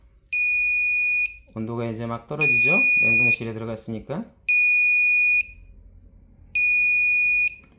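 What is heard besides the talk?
cold storage temperature alarm buzzer sounding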